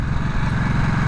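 A Harley-Davidson Nightster motorcycle engine runs steadily nearby, giving a loud continuous throbbing drone with a pulsing low-end beat and no speech.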